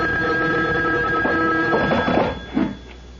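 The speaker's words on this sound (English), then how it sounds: "The phone. At this hour?" A telephone rings late at night in a horror radio drama, a bright electric bell trilling steadily for a couple of seconds, then fading into a few softer clattering bursts; no voices over it.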